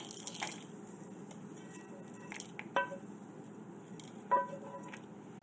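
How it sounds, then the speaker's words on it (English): Fried masala is spooned from a pan into a blender jar, making soft scraping and squishing sounds with a few light clinks of a spoon against the glass and metal. The sounds are faint and close, with no talking. "Our masala has fried, so I'm going to transfer this into a blender jar and blend it into a fine paste."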